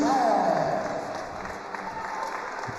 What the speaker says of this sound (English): he wins the 285-pound bout and gets a big hand from the crowd